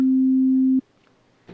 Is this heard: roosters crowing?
no